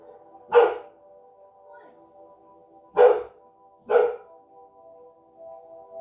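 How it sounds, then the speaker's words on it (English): A dog barks three times, loud and close: one bark, a pause of about two seconds, then two more a second apart, over a steady background hum. "My dog's going nuts"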